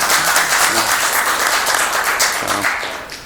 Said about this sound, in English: give Steve a round of applause for organizing this for you